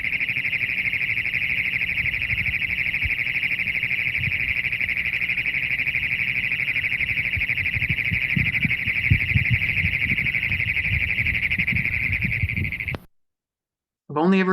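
Great Plains toad delivers a long, loud, continuous high metallic trill lasting several seconds, close, with low background rumbles and a voice appearing after it stops.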